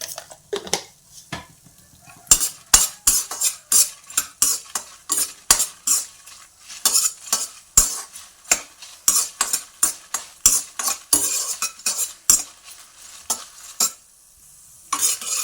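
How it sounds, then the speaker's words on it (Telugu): Coriander seeds and cumin roast in a pan while a spoon scrapes and stirs them in quick, irregular strokes, each stroke a sharp scratching burst over a soft sizzle, close and continuous. "వాటిలో వేగుతున్నప్పుడు 1 టేబుల్ స్పూన్ ధనియాలు వేసుకొని వేయించుకోవాలి."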